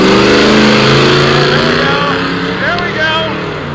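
Nitrous-fed drag car launching hard off the line, a loud, thick engine roar that holds steady and then eases slightly as the car pulls away, with voices talking over it.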